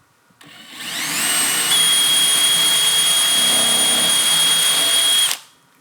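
A power drill bores a hole through plywood backed by scrap wood, a loud continuous high whine lasting about five seconds that rises at the start and cuts off abruptly, close up with no talk.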